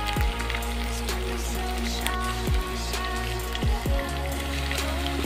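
Broiler chicken pieces sizzle in a pan with potatoes, a steady, faint crackle like light rain, with a few soft thuds and scrapes.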